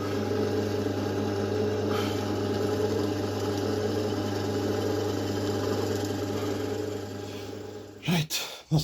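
A drill press boring tuning holes in a handmade guitar neck, running as a steady, loud droning motor hum close by for several seconds before it winds down and stops with a few knocks at the end.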